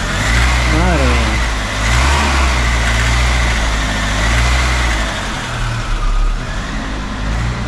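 A classic car engine, a SEAT Toledo mk1 1.6 CL, idles with a steady low rumble and swells briefly as it revs. Voices talk over it throughout.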